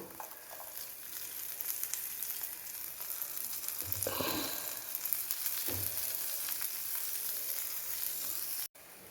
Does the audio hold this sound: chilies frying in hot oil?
yes